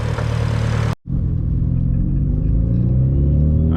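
Mitsubishi Evo engine rumbling steadily from inside the car while driving, with a brief cut near the start, then a low, continuous hum that rises slightly in pitch as it pulls.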